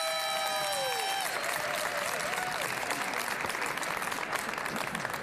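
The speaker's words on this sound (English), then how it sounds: "Can you give a round of applause to Emma and the Kleckner family, please?" A crowd at a charity family event bursts into applause and some cheering, dense clapping that holds steady and loud while a brief tonal whoop glides down near the start.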